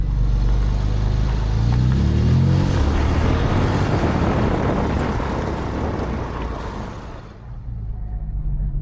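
An exotic car's engine runs with a loud, deep broadband rumble that swells and then eases before dropping off sharply near the end.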